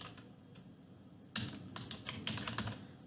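Keys clatter on a computer keyboard while someone types in an SQL table-update query, starting faintly and then growing into a busy burst of quick, uneven keystrokes with no speech over them.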